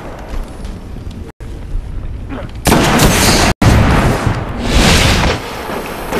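A grenade blasts in a Destiny Trials of Osiris match, a loud broadband burst of explosive noise with crackling after, preceded by quieter game ambience and brief dropouts.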